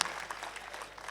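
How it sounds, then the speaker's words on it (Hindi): Audience at a live classical ghazal and song performance claps together, a brief burst of dense, steady applause filling the hall. "अब जरा सा तालियां बजा दीजिए सारे लोग मिलकर"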